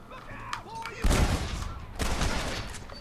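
Gunfire in the Western video game Red Dead Redemption: two dense bursts of shots, one starting about a third of the way in and another near the two-second mark, loud and close over a quieter ambient game background.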